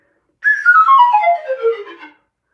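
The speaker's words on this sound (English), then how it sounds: "you can do these great runs, which kind of sound like cartoon music." A polished flute plays a quick descending run of bright notes, a single fast cascade lasting under two seconds, close and clear with no other sound.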